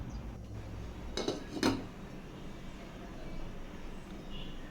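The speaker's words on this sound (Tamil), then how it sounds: "இப்போது ஒரு மூடி போட்டு ஒரு 10 மினிட்ஸ் மட்டும் நாம் குக் பண்ணிக்கலாம்." A lid going onto a cooking pot of paal kozhukattai, two quick metallic clinks close by over a steady kitchen hiss.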